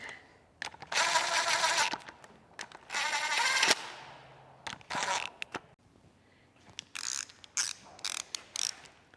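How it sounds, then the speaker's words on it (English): A power drill runs down shaft rocker bolts on a Duramax diesel engine, whirring in several short bursts, spinning up and stopping, with mechanical clicks and clatter between runs. "Use my drill to run these down."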